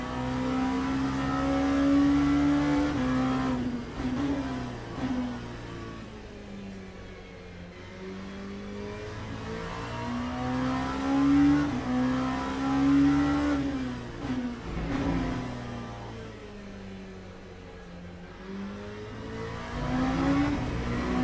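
An LMP3 race car in the Le Mans Ultimate racing game at Barcelona revs hard and continuously, the engine note rising and falling through gear changes and braking zones over a steady loud drone.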